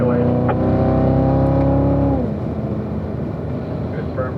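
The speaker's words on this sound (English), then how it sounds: "Let's work our way up to 5th gear on the back straightaway." A Corvette on a race track straightaway accelerating up through the gears, a loud close engine note rising steadily in pitch, then dropping abruptly at a shift into a rougher, lower roar.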